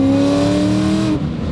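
A 700 horsepower Terminator Cobra accelerates hard in third gear, a loud close engine roar rising in pitch with a brief change in tone near the end, no talking.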